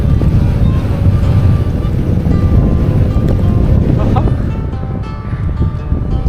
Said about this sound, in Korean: 오, 바람.